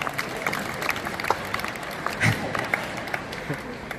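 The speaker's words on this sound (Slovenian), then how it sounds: "Prosil bi še en aplavz za super voditelja Andreja Sača Stareta." An audience at a school graduation ball claps for the host, a loose, moderate patter of hands with some crowd murmur and voices underneath.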